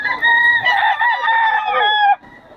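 A rooster crows among fowl at Bocaue, one loud, sustained, harmonic crow of about two seconds, close and alone, followed by a faint tail of background noise.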